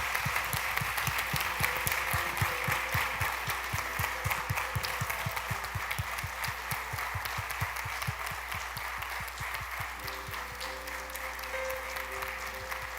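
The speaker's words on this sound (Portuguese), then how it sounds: "Vamos bater palmas para ele, né? Merece." A church congregation at a Saturday service claps steadily in a sustained round of applause, the rhythmic claps heard at moderate distance over a low hum, with a few faint voices in the background.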